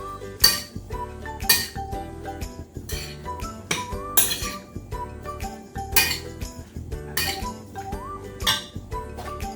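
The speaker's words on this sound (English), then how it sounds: "take my spoon and mix it really well" A spoon mixes food in a plastic Tupperware-style container, giving repeated clinking and scraping strokes in a steady rhythm, close and clear, with no talking.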